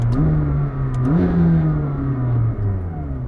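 A McLaren 765LT engine revs up loudly and close, pitch climbing through a gear, then dipping and climbing again as it keeps accelerating.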